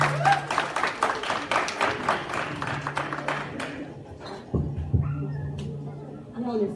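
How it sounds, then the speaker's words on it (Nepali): An audience at a stage event bursts into brisk, loud clapping that thins and fades over several seconds as a performer is welcomed, with a voice speaking over it near the end. "कृपया तालीले स्वागत गरौँ।"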